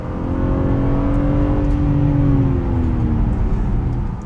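BMW M3/M4 G80 with a 503 bhp engine accelerating on a wet road, a loud close engine note rising steadily in pitch over a few seconds, with no voices.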